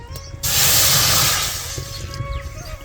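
A glassful of water poured into a hot kadhai gives a sudden loud hiss that surges for about a second, then fades to a softer simmering crackle.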